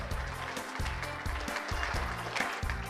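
An audience at an annual chamber awards gala claps steadily in a continuous, moderately loud wash of applause filling the room throughout.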